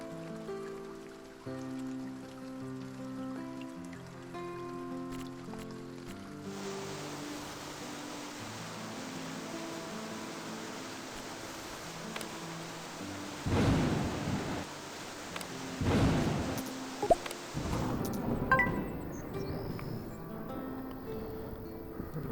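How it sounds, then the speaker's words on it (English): A heavy August thunderstorm in the video game Farm Manager 2021: a steady hiss of rain, with several loud rumbling thunder cracks later on and no talking. "It's August and we're seeing big thunderstorms."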